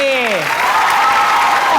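A studio audience at a Thai game show claps and cheers in a loud, dense wash, while a voice speaks over it at the start.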